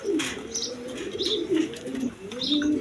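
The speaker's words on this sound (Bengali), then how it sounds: "এখানে এক পেয়ার রেড কালার গররা কবুতর আছে" A pair of red Gorra pigeons sitting on eggs coo repeatedly in low, rolling phrases, with a few faint chirps and a brief wing flutter, close by and steady throughout.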